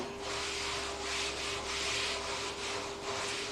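Steady rubbing of a classroom board being wiped clean, a continuous scraping swish in repeated strokes, close and moderately loud over a constant background hum.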